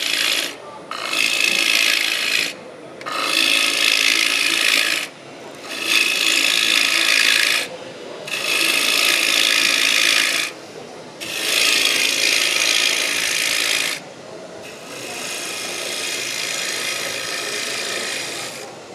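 A turning tool rides the bevel as wood spins on a lathe, giving long, close, hissing cuts of a few seconds each, broken by short pauses, and a softer, steadier pass at the end.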